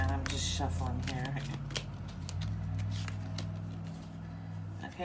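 Tarot cards are shuffled in quick riffling bursts under soft background noise, with a person talking briefly at the start.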